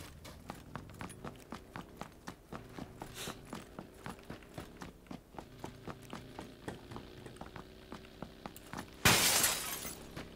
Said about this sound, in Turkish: camı kırdı biri. Ben kırdım.